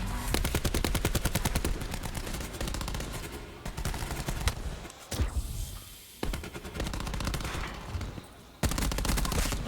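Dense automatic gunfire from a Call of Duty pro league match on the Arsenal map, with rapid rattling bursts, brief pauses and renewed volleys, loud and close.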